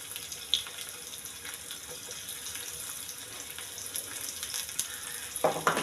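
Small shallots fry in hot oil with dried red chillies for a traditional Kerala chicken curry, producing a continuous soft crackling sizzle with faint clinks, and a louder burst near the end.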